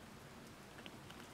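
Steady, faint rain falling during a thunderstorm, a soft continuous patter with a few distinct drops landing close by.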